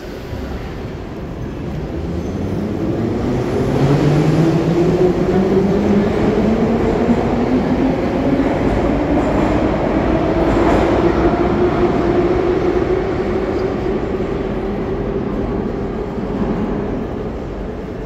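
A Tashkent metro train at Chorsu station roars steadily and loudly for the whole stretch, with rising and falling tonal whines of motors and continuous rail rumble, no voices.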